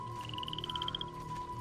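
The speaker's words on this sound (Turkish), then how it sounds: "Kurbağa sesleri var." Frogs croak in the video game Octave, a quick rising series of bright pulsed calls over a steady tonal hum and low game ambience, moderately loud, with no talk.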